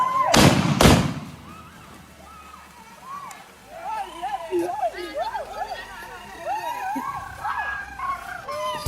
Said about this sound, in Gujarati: અહીંયા અમારે બોમ્બ અને અહીંયા અમારે હિન્દ્રી બોમ્બ ફોડવાના છે